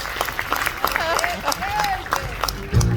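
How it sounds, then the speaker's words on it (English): A cruise ship show audience claps for a volunteer on stage, scattered applause under someone speaking, ending in a louder burst. "Yes, you should be clapping"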